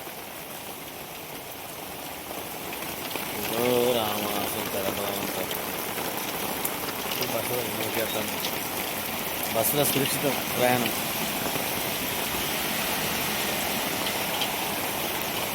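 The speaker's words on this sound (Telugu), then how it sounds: "ఇంకా పెరిగింది వాన" Heavy rain pours down in Karimnagar in a dense, steady hiss with water rushing along the ground, while people talk intermittently over it.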